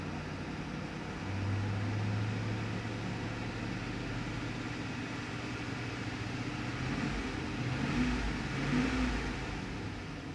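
A Chevy Suburban's engine hums at idle, then rises in a couple of moderate revs and settles back, heard close in a quiet space.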